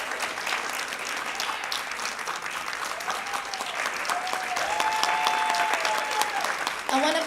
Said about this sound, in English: please give a big round of applause to Imagine That for all the beautiful decor